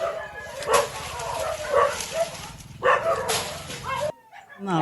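Many stray dogs kept in a building beside a house compound bark and yelp together in a loud, overlapping chorus, with sharp bursts rising above a constant din before cutting off abruptly.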